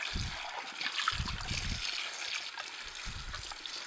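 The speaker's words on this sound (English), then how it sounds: "We'll just rinse that right out." Running water trickles and splashes as an Omega Sana EUJ808 juicer bowl is rinsed out, a faint, close, steady wash broken by a few short bursts of louder gushing.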